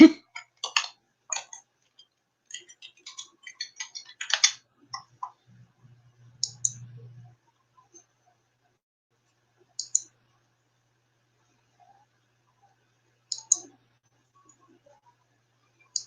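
Computer keyboard keys tapped and a mouse clicked while logging in, sparse close clicks in short bursts with long quiet gaps between them.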